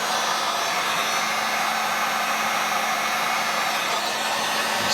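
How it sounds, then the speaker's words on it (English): A heat gun blows continuously close up, a steady loud airy whoosh with a motor hum, while it shrinks heat-shrink tubing onto a tweeter wire; no talk over it. "we'll slide that heat shrink up there and shrink that heat shrink on it, get it sealed"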